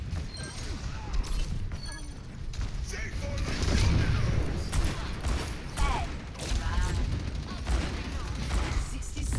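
Overwatch gunfire hammers at a wall in rapid bursts amid game mechanisms and clatter, loud and busy throughout, with a voice talking over the action.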